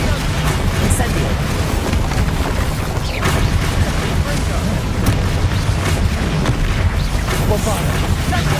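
Casting the Incendio fire spell in Hogwarts Legacy brings dense, continuous rumbling booms and bursts of game combat, loud and close, with character voices and battle noise layered throughout.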